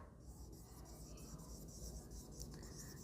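A pen scratches and taps across a writing surface during an English grammar lesson, faint and close, with short strokes repeating over about three seconds.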